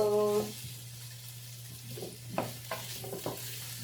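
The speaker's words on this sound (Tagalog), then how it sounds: "Hintayin natin na mag-brown na naman tong potato" Potatoes browning in a frying pan give off a soft, steady sizzle with a few stirring clatters, heard close up with no talk.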